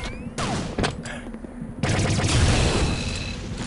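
A weapon in Star Trek Elite Force fires in rapid bursts, sharp loud shots clustered together that break into a steady, dense stream of gunfire with a sweeping whine behind it.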